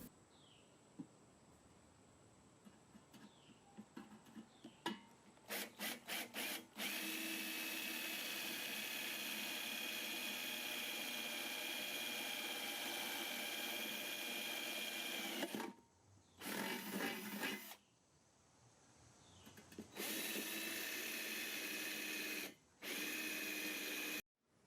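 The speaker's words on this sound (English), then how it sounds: "I'll clean up the housing's mounting holes by drilling the remaining rivets through." A power drill bores out leftover rivets in the housing of a Briggs & Stratton rewind pull starter, several short bursts building into long steady whirring runs that stop and restart.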